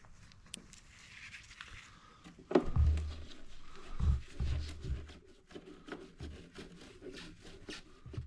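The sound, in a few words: cleaning battery cable ends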